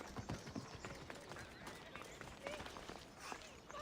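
Horse hooves clip-clop steadily in Assassin's Creed as a burning horse gallops, the quick hoofbeats running throughout under a busy, cluttered game soundscape.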